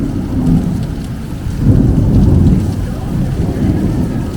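Heavy rain pours steadily in Rome while thunder rumbles low and deep, swelling midway through the downpour, with no voices over the storm.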